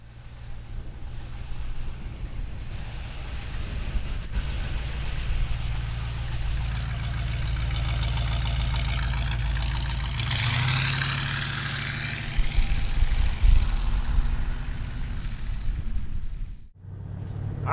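A restored 1971 Chevrolet Blazer with loud mufflers idles nearby with a deep, steady rumble. A brief rise in revs comes near the middle, then it settles back to a lumpy idle before cutting off at the end.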